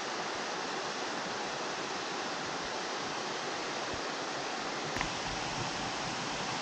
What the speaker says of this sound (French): Donc là on a les cascades du Hérisson là.